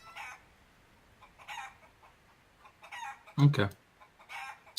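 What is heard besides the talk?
chickens clucking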